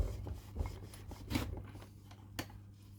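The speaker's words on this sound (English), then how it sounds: "Just polishing all muck off." A cloth or cleaning block is rubbed back and forth along model railway track, giving faint, close scraping strokes with a few brief louder swipes.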